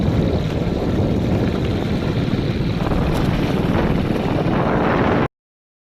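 A motorbike ride through a village produces a steady, loud rumble mixed with buffeting wind noise that continues unbroken, then cuts off abruptly into silence, with no talk.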